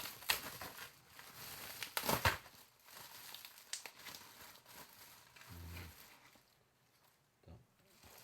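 A small plastic parcel bag is opened with close, bursty crinkling and rustling, while someone talks intermittently nearby.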